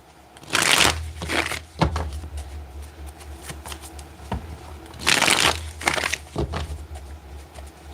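Two close bursts of card shuffling, riffled cards rattling and snapping together, separated by quieter handling sounds over a low background hum.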